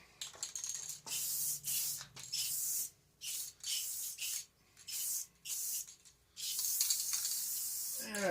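Aluminum-colored spray paint hisses onto a motorcycle part in a series of short bursts, each lasting about a second, separated by brief pauses, with one longer final spray.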